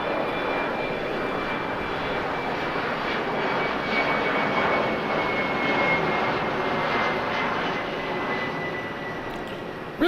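An airliner takes off from runway 6 right at LAX on a stormy day, its jet engines a steady, broad roar heard from a distance and holding level throughout, with no voices.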